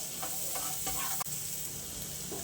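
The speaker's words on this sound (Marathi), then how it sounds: "बटर घालून घेतलेला आहे आता यामध्ये लसूण आणि आलं घालून घेऊया" Garlic and ginger fry in melted butter in a pan, a steady close sizzle with a few stirring scrapes and a brief knock midway.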